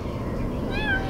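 A kitten gives one brief, thin, rising-and-falling meow at close range over a low background rumble.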